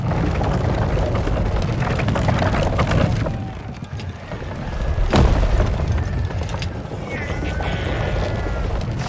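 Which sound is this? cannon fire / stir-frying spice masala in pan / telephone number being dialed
cannon fire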